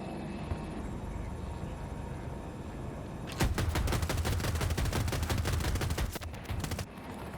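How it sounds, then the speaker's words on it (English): Heavy machine gun on a vehicle in Battlefield 2042 fires one sustained, rapid, loud burst of roughly three seconds midway, set against a low ambient battlefield rumble before and after. "That little HMG does so much damage."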